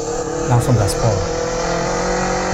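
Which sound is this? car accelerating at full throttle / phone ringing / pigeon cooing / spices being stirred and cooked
car accelerating at full throttle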